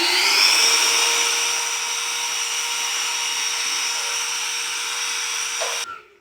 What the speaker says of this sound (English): Gonna drill these holes now.